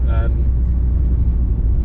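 A Rover 75 Connoisseur SE CDTi diesel engine drones as a steady low rumble from inside the moving car, continuous and fairly loud throughout.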